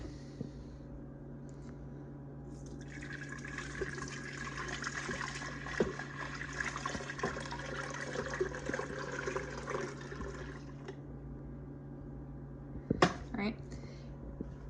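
A steady stream of milk pours into an Instant Pot pressure cooker pot for several seconds over a low constant hum, with a brief clatter near the end.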